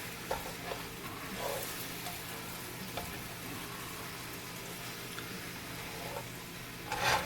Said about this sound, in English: And we're gonna stir you like a fiend